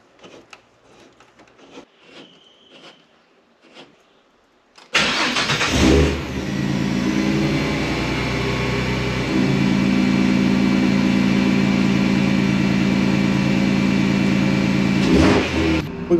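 A Toyota FJ45 engine starts up and runs on a test drive, a loud steady rumble that rises slightly in pitch partway through, after a few quiet clicks and rattles.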